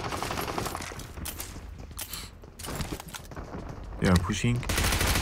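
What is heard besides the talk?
gunfire in PUBG Mobile (BGMI) video game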